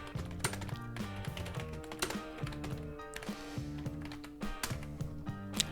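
Rapid typing on a computer keyboard while a description is entered, with quick irregular clicks and clacks close by, plus someone speaking quietly underneath.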